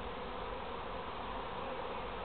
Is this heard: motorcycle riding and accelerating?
no